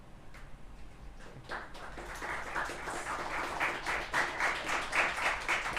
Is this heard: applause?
yes